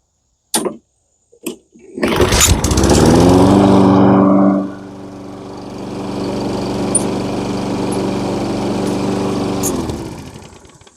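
Toro 22-inch self-propelled lawn mower with a Kohler engine, after repair: a couple of sharp clicks, then the engine starts with a loud surge, settles into a steady lower idle-like run and shuts off near the end.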